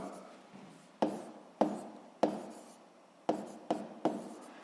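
Pen writing by hand on paper, with a series of distinct tapping strokes at irregular intervals over a soft scratching, close and quiet with no talk.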